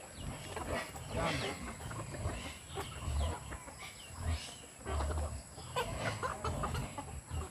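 Native chickens cluck repeatedly nearby in uneven bursts, with a faint steady insect hum and brief low murmurs in the background.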